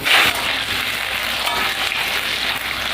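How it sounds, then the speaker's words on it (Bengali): Potatoes fry in oil in a wok (kadai) with a soft, continuous hiss that holds at an even level throughout, no voices. "আলুটা ভেজে নেব।"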